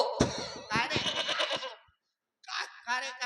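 A person imitates a goat's bleat in wavering, harmonic bursts, followed by a short silence and another bleating burst.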